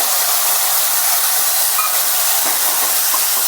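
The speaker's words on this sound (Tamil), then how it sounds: "டொமேட்டோவும் இது கூட சேர்ந்து கொஞ்சம் வதங்கட்டும்" Onion and tomato sauté in a pan with a loud, steady frying hiss that stays close and unbroken throughout, with no voices.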